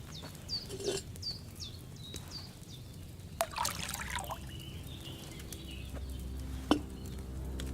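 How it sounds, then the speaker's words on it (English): Wine poured into a cauldron in a game, heard as a quiet trickling pour with a few faint clinks and bird-like chirps in the background, and no talk. "So, what did you pour in there? Wine, of course."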